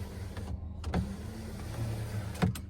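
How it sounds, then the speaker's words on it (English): Power rear sliding window on a 2020 Ram 1500 Limited pickup cabin, a steady electric motor whir running for a few seconds with small clicks at start and stop, close and clear with no talking. "This rear window, it opens."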